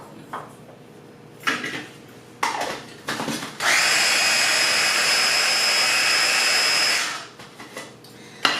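A food processor blends hummus in a home kitchen: a few short clattering pulses and bumps, then a loud, steady whirring motor run of about three seconds that stops abruptly.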